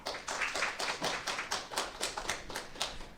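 Audience at a child policy forum applauding: a run of separate, fairly regular claps from a small group, moderately near and quiet, with no voices over them.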